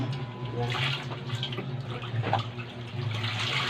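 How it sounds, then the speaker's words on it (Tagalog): An ordinary washing machine running with water, a steady close wash of sloshing and churning water with a low hum underneath, continuous and moderately loud throughout. "Ang ordinary washing machine lang."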